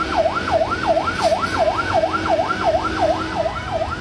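Fire engine sirens wail continuously in rapid, evenly repeating rising and falling cycles at a fire in South Tangerang, Indonesia, where dormitory houses burned, with a steady traffic rumble underneath.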